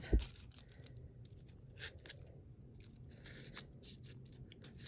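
Scissors trim excess scrap fabric on a handmade fabric Christmas tree, giving a few faint, close snips and light scratchy rustles against quiet room noise.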